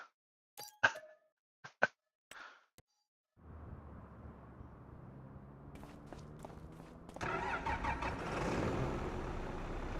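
A tractor engine in Farming Simulator 25 starts up after a few short clicks, then runs as a steady mid-pitched drone that grows louder and rougher toward the end, heard alone without talk.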